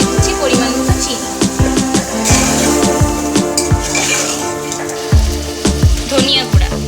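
Beef and spices for beef biryani fry in a pan with a steady sizzle. A metal spoon scrapes and clanks against the pan in a regular rhythm, and someone talks over it.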